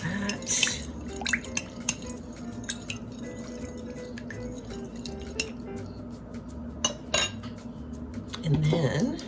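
Gluten-free vegan pasta salad tossed with olive oil in a bowl, giving soft utensil scrapes and light clinks against the dish, with a few sharper taps and a brief sound near the end.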